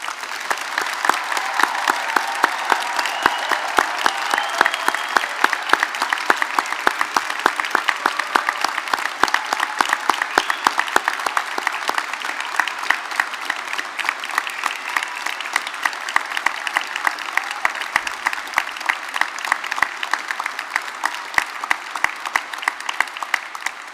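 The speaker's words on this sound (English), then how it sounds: "giving all of our amazing graduates a huge round of applause" A large crowd at a Belfast graduation ceremony applauding steadily for a long stretch, dense continuous clapping at even loudness with no talking over it.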